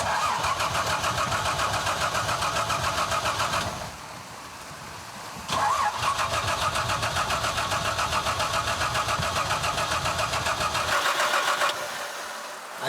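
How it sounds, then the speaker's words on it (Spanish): A carbureted car engine cranks repeatedly without catching, with fuel not reaching it and a suspected bad pump. The loud, steady starter churn pauses briefly, resumes, then cuts off. "El carro aquel no le prende."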